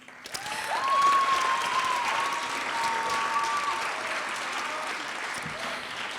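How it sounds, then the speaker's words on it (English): An audience at an MLK celebration bursts into applause that swells quickly and holds at a steady, loud level, with a few whistles rising above the clapping. "Let's give a big round of applause."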